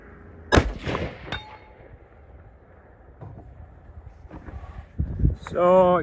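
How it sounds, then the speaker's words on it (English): Christensen Arms Mesa rifle shot followed by a faint metallic clang of the bullet striking a steel target at 200 yards, with a sharp blast near the start and later sounds, speech heard at the end. "First shot here is going to be 200 yards just to verify zero on the gun."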